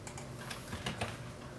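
A few quick keystrokes on a computer keyboard, soft close clicks in a short burst with no voices, as a command is typed into a search box.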